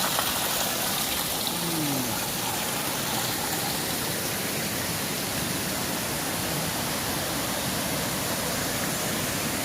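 Steady, loud rushing roar of Jagir waterfall in Banyuwangi, a broadband wash of falling water that fills the whole clip without letting up, with no voices heard.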